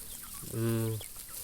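A chicken on a poultry farm lets out a single drawn-out cluck, close and clear over a quiet background, with no talk.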